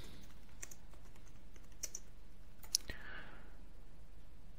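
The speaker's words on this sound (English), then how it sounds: "Zatim ukucate sudo šifru" Quiet, close clicks of a computer keyboard as a sudo password is typed into a Linux terminal, a short scattered run of keystrokes over a faint background hiss.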